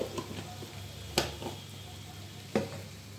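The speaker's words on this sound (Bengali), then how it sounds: "এবার আমি সব মশলাগুলো ভালোভাবে মিশিয়ে এটা কষিয়ে নেব।" Ground spice masala, finished with garam masala, stirred and fried in a pan for paneer butter masala: a soft steady sizzle, broken by a few distinct scraping stirs of a spoon against the pan.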